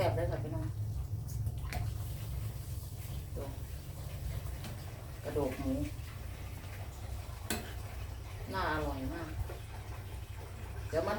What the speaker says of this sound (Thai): เขากำลังเดือดปุ๊บปุ๊บปุ๊บปุ๊บเลยค่ะ